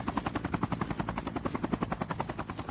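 Rapid, rhythmic thudding of helicopter rotor blades in the video game Call of Duty Mobile, steady and fairly close, with no voices over it.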